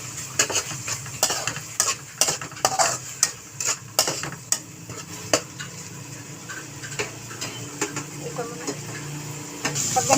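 Pork and alamang shrimp paste with sugar are stirred in a hot pan, a spatula scraping and tapping in irregular clusters over a soft sizzle, close and fairly clear.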